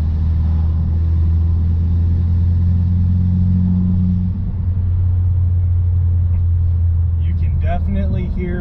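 A Hyundai Veloster Turbo engine with a new turbo intake rumbles low and steady from inside the car, its note easing partway through, before a person begins talking at the end.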